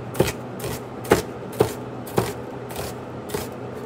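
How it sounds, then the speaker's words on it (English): A knife chops two onions on a cutting board, slicing them in six distinct strokes that land at uneven intervals, each one close and crisp with no voice. "I'm just chopping up some onions"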